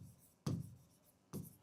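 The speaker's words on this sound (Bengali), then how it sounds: "চলো একটু লিখে নিই ফটাফট।" Two quick handwriting strokes, pen scratching on paper in short bursts about a second apart, close and fairly faint with quiet room tone between.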